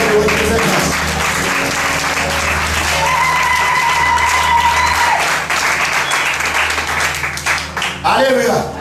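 A church congregation applauds and cheers, a dense, sustained wash of clapping that fills the room and tapers near the end, with a voice carrying over the crowd.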